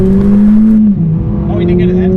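Engine note from a Mercedes A45 AMG with an upgraded exhaust, a loud steady drone that drops in pitch as the car shifts down, heard from inside the cabin with people talking over it.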